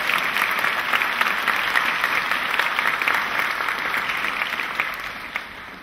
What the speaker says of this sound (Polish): I wielkie brawa.